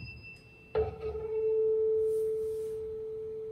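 A tuning fork is struck and set onto an empty rectangular wooden sound box, where a quiet click gives way to a steady, pure, ringing tone that holds and slowly swells for several seconds.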